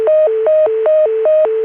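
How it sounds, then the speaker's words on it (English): A telephone deedle signal from Richmond comes over a ConTelNet trunk, a loud warbling tone that alternates steadily between two pitches several times before cutting off abruptly. "we were just hearing the deedle from Richmond"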